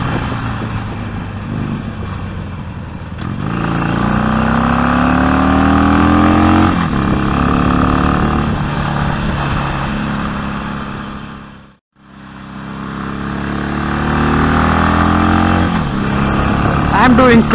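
A Harley-Davidson Iron 883 motorcycle engine rumbles and revs through clutchless upshifts in city traffic, loud and close, briefly dropping off near the end before pulling away again.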